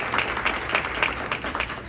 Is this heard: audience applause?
yes